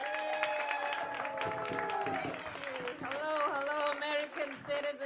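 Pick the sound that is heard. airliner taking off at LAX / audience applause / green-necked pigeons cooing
audience applause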